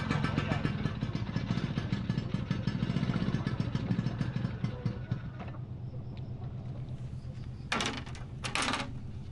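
A motorcycle engine runs steadily at close range in a coastal tourist area of Karimun Jawa, thrumming low beneath voices talking, then quietens partway through as brief clatters and knocks sound near the end.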